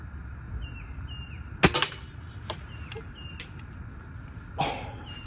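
A Daisy No 40 Military airgun is fired outdoors, and the shots ricochet off a can: one sharp snap with quick metallic clinks, then several fainter ticks and a later softer impact, over quiet background with insects chirping.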